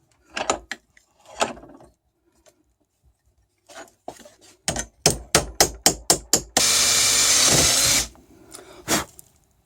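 A hand pop riveter works on a Volvo XC90 wiper part: a series of sharp, close, evenly spaced squeezing clicks, followed by a sustained harsh grinding burst and scattered handling knocks.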